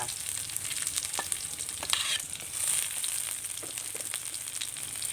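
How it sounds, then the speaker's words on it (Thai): Garlic and galangal sizzle steadily in a hot pan, a constant bright frying hiss with occasional stirring scrapes and pops, close and fairly loud with no voices. "เอา กระเทียมใส่นะคะ ข่าค่ะ ใส่ลงไปเลยนะคะ"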